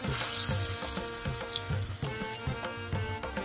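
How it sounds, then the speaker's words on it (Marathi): Pieces of kothimbir vadi, a coriander gram-flour snack, shallow frying in hot oil over low heat, giving a steady dense sizzle with small crackles and pops throughout, close and fairly loud with no talk. "तेल गरम झालेलं आहे, तेलात असं ठेवून घ्यायचं आहे। कमी गॅसवरती फ्राय करून घ्यायचं आहे।"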